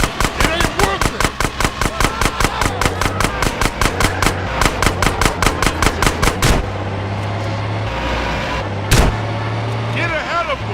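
Rapid automatic gunfire in GTA San Andreas during a truck mission blasts at a fast, even rhythm for several seconds over a droning vehicle engine. Then the shots stop and the engine rumbles on, broken by one more sharp shot.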